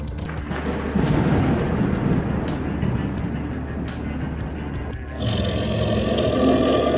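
A cartoon hyena lets out a roar in a Sundarbans forest scene, a loud, rumbling growl that fills the whole clip over a dense, low background, swelling further near the end.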